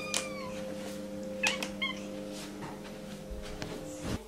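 Several household cats meow in the morning before breakfast, with a few short rising calls and whiny cries scattered over a steady low hum indoors, moderately close and fairly quiet.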